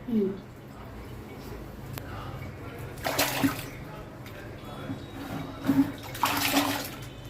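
Soapnut (ringya) rubbed in water to work up a lather: faint, soft sloshing and squishing, with two louder bursts of splashing water and a voice speaking at the start.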